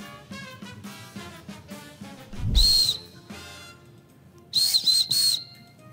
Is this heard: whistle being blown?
yes